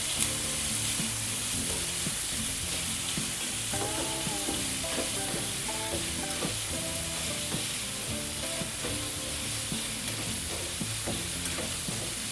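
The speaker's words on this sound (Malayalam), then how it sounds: "നല്ല കൊച്ചു കുരുരാന്നരിഞ്ഞ സവാള. ഇതൊന്ന് നല്ലതുപോലെ ഒന്ന് വഴറ്റിയെടുക്കാം" Finely chopped onions sauté in a pan, giving a continuous hiss of frying that runs the whole time at an even level. Faint tonal music plays underneath, and no one speaks.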